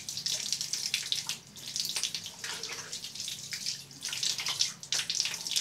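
Tap water runs into a sink or basin for wetting the face, a steady hiss with splashing and irregular bursts as hands move through the stream, close and continuous, with no talking.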